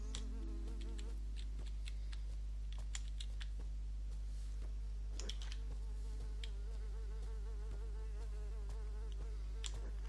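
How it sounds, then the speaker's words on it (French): Flies buzz steadily in the video game Might and Magic 10, a continuous insect drone with sharp clicking ticks scattered throughout and a constant low hum underneath. "Ces bons vieux bruits de mouche."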